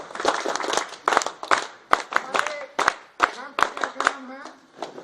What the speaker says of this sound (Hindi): चलो भाई जोरदार ताली तो बजाओ